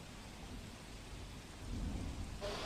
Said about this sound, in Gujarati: રાજકોટ શહેરની અંદર ધોધમાર વરસાદની શરૂઆત છે તે થઈ ચૂકી છે